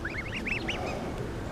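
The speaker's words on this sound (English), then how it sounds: "These are Canadian geese." Orphaned Canada geese honking, a quick run of nasal calls repeated close by with no talk.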